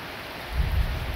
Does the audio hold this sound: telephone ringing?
no